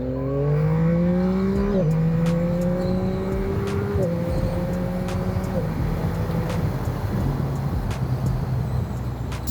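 A Yamaha MT-09 motorcycle, A2-restricted and fitted with its stock exhaust, accelerates hard: the engine note climbs steadily through several gears, dropping briefly at each shift, loud and close with faint road noise.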